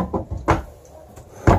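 The leaf of an extendable dinette table in a Class A diesel pusher motorhome is pulled out, giving three solid wooden clunks and knocks spaced apart, close and fairly loud, with quieter handling sounds between them.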